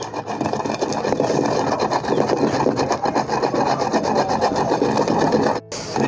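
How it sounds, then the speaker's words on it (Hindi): Cardamom seeds, black pepper and fennel being ground together with four-seed kernels for traditional thandai, giving a steady, loud rasping scrape that runs continuously with one brief pause near the end. "अब इसी में डालते हैं इलायची के दाने, काली मिर्च, सौंफ। अब इनकी भी रगड़ाई करते हैं चारों मगज़ में।"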